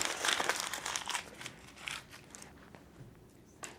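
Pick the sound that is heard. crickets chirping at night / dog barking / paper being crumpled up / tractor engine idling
paper being crumpled up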